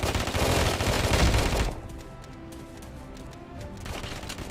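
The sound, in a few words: gunfire in video game Afterpulse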